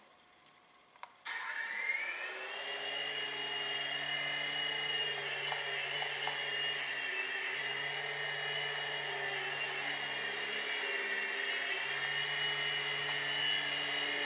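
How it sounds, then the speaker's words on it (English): An RC helicopter spools up indoors after a brief quiet start, its motor whine rising quickly into a steady high-pitched buzz with a low rotor hum underneath, holding close and continuous without talk. "So, with the helicopter landed, we'll take off."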